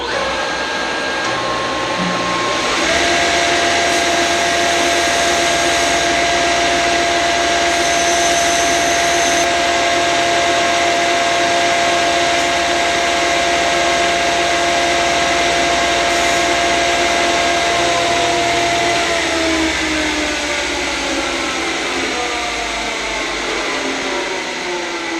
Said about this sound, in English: Now we're going to grind this off.